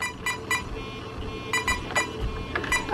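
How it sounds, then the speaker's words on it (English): A Castle electronic speed controller beeps through its programming sequence, with short, sharp tones grouped in clusters over a low background hum, close and moderately quiet. "that is now doing three beeps followed by four beeps"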